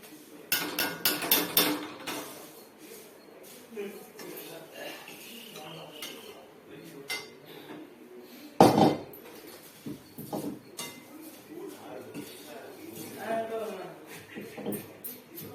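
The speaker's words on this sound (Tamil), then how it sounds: "சாட் மசாலா பவுடர் இந்த மாரி போட்டுட்டு இது இப்படி நல்லா ஒரு மிக்சிங் பண்ணுறோம்" Spoon clinking and scraping in a bowl as chaat masala powder is mixed into puffed rice (pori) for a coriander masala snack, a run of close clanks with one sharp knock midway, under steady talking.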